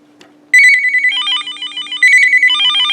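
A Uniden EXS2080 900MHz cordless phone plays its clatter ringtone, loud and close: after a brief quiet start, a quick chirping electronic melody rings in two back-to-back bursts.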